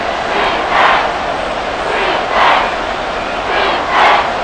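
A stadium crowd in Madden NFL 24 roars steadily in a broad wash, swelling in three louder surges during a big third-down play between the New Orleans Saints and Miami Dolphins.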